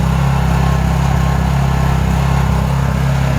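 A Honda 2200 generator runs steadily at high speed with its eco mode off, giving a loud, continuous engine drone with no talk and a slight unevenness from a gumming carburetor.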